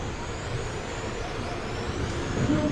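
Race cars at the USVTA main event at the 2021 NorthStar Classic make a low, continuous engine rumble from the track, heard at moderate distance and without clear passes.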